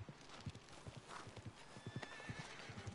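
Horse in the Red Dead Redemption 2 video game, with rapid rhythmic hoof clip-clops and a whinnying neigh partway through, fairly close and steady throughout.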